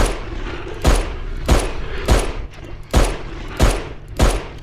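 Gunfire rings out in a Korean horror video game set in a hotel's underground facility, six loud evenly spaced shots with echoing tails, roughly one every seven-tenths of a second.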